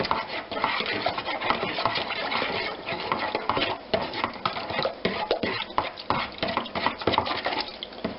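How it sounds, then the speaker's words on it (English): A knife scrapes and clatters steadily against a dish while seasoned steaks are stirred up, a continuous close run of scraping and tapping with no talking. "Stir them up with my knife."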